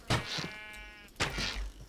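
A sheep in Minecraft bleats twice in quick succession, each a wavering nasal call with a breathy onset, close and fairly loud with no speech over it.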